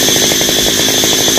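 A chainsaw cuts through a large tree trunk, the engine snarling loud and close with a rapid pulsing rhythm throughout the brief stretch.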